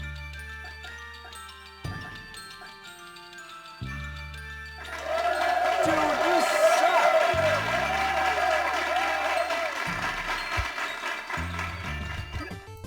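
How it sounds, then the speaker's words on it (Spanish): Crowd applause from the Wii version of the game Bully swells in during tournament selection, layered over looping background music and menu taps, moderately loud with no talking. "cada vez que seleccionemos un torneo, escucharemos a un público aplaudir."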